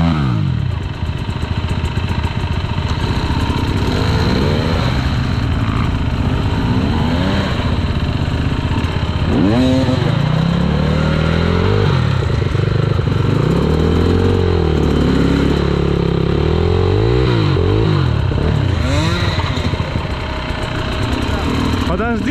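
Motorcycle engine revving and sputtering up close, loud, with repeated bursts of throttle over a rough idle and mechanical clatter, while people talk nearby.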